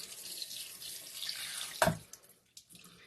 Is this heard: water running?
yes